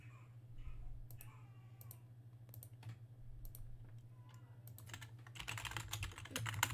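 Keys clatter on a computer keyboard in scattered bursts of quick clicks, close and moderately quiet over a low steady hum, then a dense rapid run of typing at the end; a few faint vocal sounds appear early.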